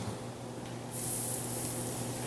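Shrimp dropped as a test piece into hot frying grease set off a steady bright sizzle that jumps louder partway through and holds for a couple of seconds over a low background hum, with no talking.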